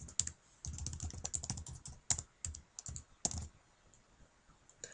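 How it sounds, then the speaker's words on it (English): Quick, close keystrokes on a computer keyboard as a website address is entered, tapping in uneven bursts with short pauses between groups and no voice. "simply type the website address into the box that appears"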